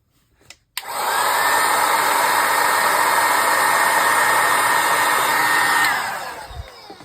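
A hair dryer switches on with a click and blows a loud, steady rushing whoosh over wet paint on an art journal for about five seconds, then cuts off and winds down.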